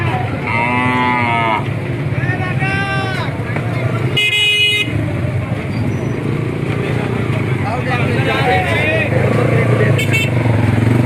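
A crowded livestock market during a traffic jam, with motorcycle and car horns tooting repeatedly, cattle mooing, and a constant engine hum, while people talk nearby over the noise.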